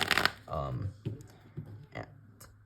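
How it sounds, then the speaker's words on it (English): Quick riffling shuffle of playing cards with a crisp fluttering burst at the start, followed by softer shuffling and handling noises; a voice is faintly present. "the trick can start with a quick shuffle of the cards"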